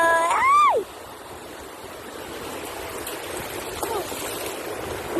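Ocean surf at Tundaligan Beach in Dagupan City makes a steady, rushing wash. A brief whooping voice cuts in at the very start, then the waves carry on alone.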